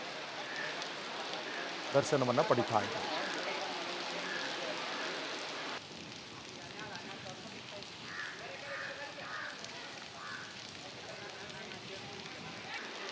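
Heavy monsoon rain falls beside the flooded Malaprabha river in Belagavi, where riverside temples stand submerged; a faint, steady wash of rainfall continues under a man's speech, with a brief louder burst early on.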